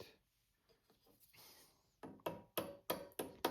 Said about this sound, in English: just a little slight tap and they come loose